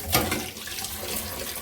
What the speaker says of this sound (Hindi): बस ये बर्तन है, पानी डाल दिया है